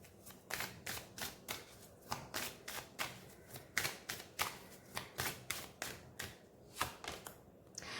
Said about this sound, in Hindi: चलिए यहाँ से देखते हैं, कान्हा जी के डेक से भी देखते हैं